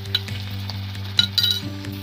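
Garlic, ginger and green chilli hitting hot oil with fried onions for an egg curry, giving a steady close sizzle with a few stirring scrapes and clinks of a spoon on the pan.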